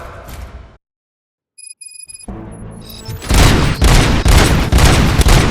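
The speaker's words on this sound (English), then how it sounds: "Gunshots?" After a short silence and some electronic beeps, loud rapid bursts of gunfire erupt and continue, dense and close, in the video game Robocop: Rogue City.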